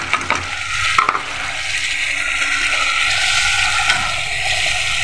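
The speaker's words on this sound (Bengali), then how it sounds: "এটাকে আমি আরেকটু ভালো করে কষিয়ে নেব।" Okra curry with beaten sour yogurt is stirred and fried in a pan, opening with a few utensil scrapes before settling into a steady, close sizzle.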